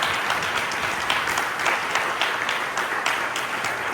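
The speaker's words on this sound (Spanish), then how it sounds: "¿Alguien puede darle un aplauso al Espíritu Santo para que sea glorificado en tu vida?" A church congregation applauds in a full, sustained wave, many hands clapping evenly and continuously in a reverberant hall with no voices over it.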